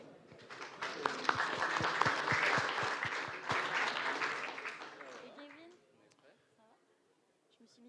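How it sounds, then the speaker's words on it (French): A conference audience applauds as speakers come on stage, building to a full round of clapping with a few sharp claps standing out. The applause fades away after about five seconds, and a voice is heard faintly under it. "Veuillez les applaudir."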